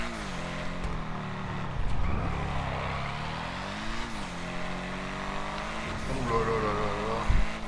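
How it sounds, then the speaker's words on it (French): Synthetic car engine tones from a video game rise and fall through gear changes, a steady revving drone with sweeping pitch shifts, fairly quiet throughout. "Elles sont des bruits de moteur, les nouvelles là"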